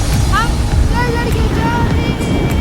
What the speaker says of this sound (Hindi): तेज हवा आ रहा है